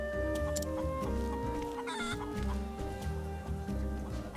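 Chickens clucking in the video game Octopath Traveler, with repeated clucks and a brief crowing note over a looping musical soundtrack with a steady rhythmic beat.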